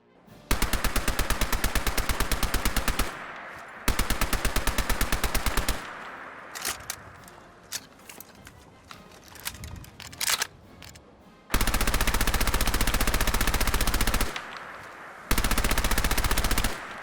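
An MP40 submachine gun fires in Fallout 4 in loud, rapid full-auto bursts, several seconds each, separated by pauses filled with clicks and clatter of reloading and handling.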